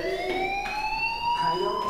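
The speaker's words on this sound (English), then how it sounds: "Hey, do you hear that fire alarm?" A school fire alarm in the video game Life is Strange rings loudly and continuously, a steady high electronic tone with harmonic overtones that pulses in a regular beat, heard alone without talk.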